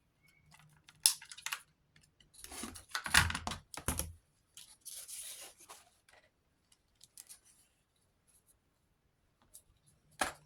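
Scissors cutting paper for a handmade journal project, a few short close snips and rustles separated by quiet pauses, with no one talking.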